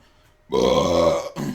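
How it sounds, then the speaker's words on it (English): A single loud, close burp with a long, rough, voiced drone, followed by a short second gulp-like burst. "I burp loudly as I change back into my uniform"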